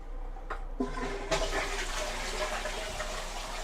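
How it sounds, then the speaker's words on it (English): Flushing of a Japanese hotel apartment toilet with a small hand-washing sink built on top of the tank, a close gushing rush of water starting with a click and settling into steady running and refilling. "Once you flush, the water goes through the sink into the toilet basket,"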